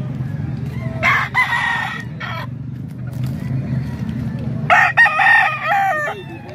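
Roosters crow loudly nearby in two bursts, the first around the one-second mark and the second near five seconds, over a low steady hum with faint clucking between them.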